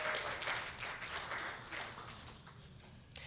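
Audience applause at a 2011 robotics event, a crowd clapping steadily at moderate distance for a few seconds, slowly tapering.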